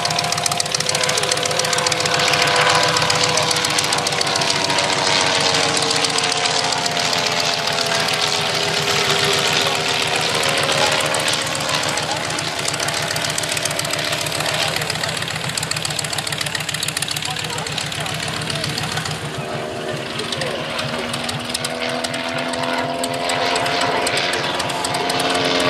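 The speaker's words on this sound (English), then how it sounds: "this engine is only turning at about 1100 RPM" A vintage aircraft piston engine on a Sopwith Triplane runs at a low, steady idle of about 1100 RPM, a loud continuous rumble that holds throughout.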